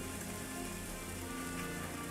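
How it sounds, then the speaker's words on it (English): Steady, dense video-game rain patters continuously on a surface, a full hiss of drops with no pauses or voices. "That's just rain."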